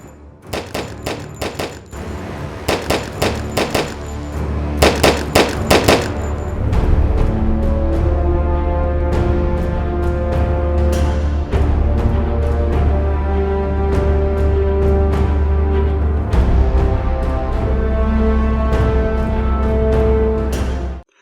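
Rapid bursts of simulated gunfire crack loudly at first, then give way to a sustained booming, droning rumble with ongoing layered effects.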